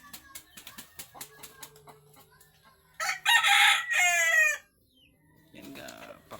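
Roosters crow loudly in a couple of long calls, preceded by a series of sharp taps and clucks, with a few more calls trailing at the end.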